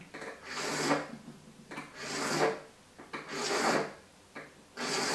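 A metal file cuts a groove, rasping back and forth in four slow, even strokes, each a harsh scraping burst separated by short pauses.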